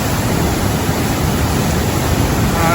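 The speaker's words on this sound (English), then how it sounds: "Water's really gushing down into Central Cascade there." Heavy water gushes down into Central Cascade in the Watkins Glen gorge, a steady, loud, dense roar that fills the whole scene close by, with no voices.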